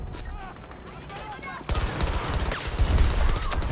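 Glock pistol firing in Battlefield 2042 amid a busy firefight, a dense stream of sharp shots layered over background battle noise and chatter-like voices, growing louder and denser halfway through.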